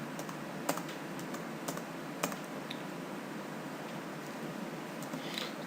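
A few separate key presses on a computer keyboard, sparse faint clicks spaced a second or so apart over steady background hiss.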